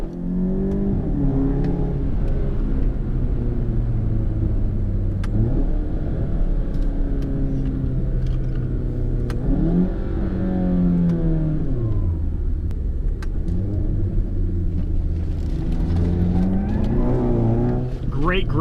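A VW Golf GTI MK7 with Cobb Stage 3 tune and catless downpipe pulls through repeated rising engine revs and shifts, a loud droning cabin rumble with turbo spooling under someone talking throughout.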